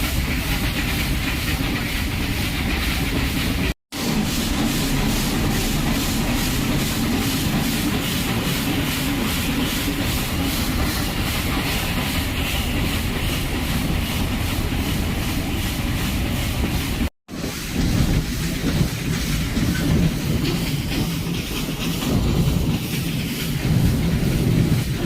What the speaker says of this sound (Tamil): ட்ரெயின் ரொம்ப கஷ்டப்பட்டு ஏறுது.